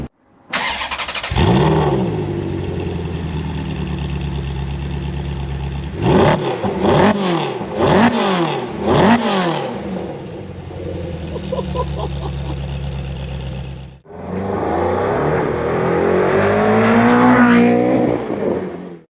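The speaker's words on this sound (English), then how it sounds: "Let's go and hear that engine." A Ferrari F430 Challenge engine cranks and fires up, then a series of sharp, loud revs rise and fall before a sustained high-pitched roar, close by and without talk.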